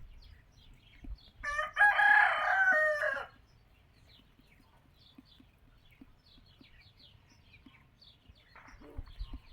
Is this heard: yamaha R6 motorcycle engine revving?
no